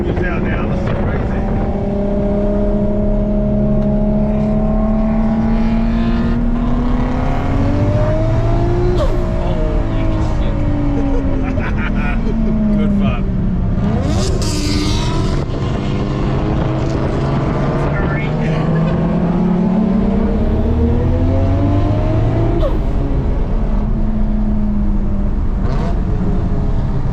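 Several race cars lap the Hampton Downs circuit in New Zealand during a JDM, rotary and V8 car event, engines droning and revving loudly with rising and falling pitch as they pass close by, continuous throughout.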